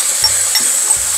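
Fish cake stir-fried with carrot, onion and sauce in a pan, a loud close sizzle with a couple of brief low scraping stirs, no talking.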